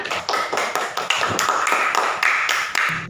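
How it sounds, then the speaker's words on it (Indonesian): A classroom of students applauding, a quick, steady run of sharp, close claps that continues briskly without a pause. "Beri aplaus dulu buat Pak."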